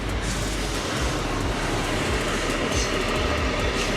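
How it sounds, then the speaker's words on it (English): A short train rolls past in a steady, loud, continuous rumble with rhythmic clatter throughout and no speech. "Of course, here comes the train."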